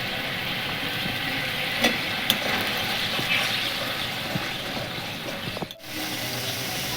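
Tomato paste goes into a frying spice mix with asafoetida for a vegetarian pointed-gourd curry, giving a steady wet sizzle and bubbling with a few soft clinks and scrapes of stirring, close but fairly quiet, with no voices.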